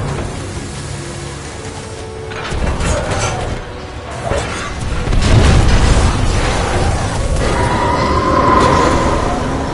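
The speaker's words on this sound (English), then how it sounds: "Series of explosions just weakened the manipulator arm." Heavy booms and rumbling blasts rise and fall over a dense mechanical din in Titanfall 2, several explosions rolling one after another.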